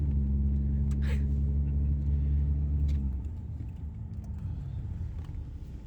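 A 1992 Jaguar XJ6 Sovereign driving, its steady low engine rumble and road drone heard from inside, loud and continuous, easing slightly partway through, with no talking.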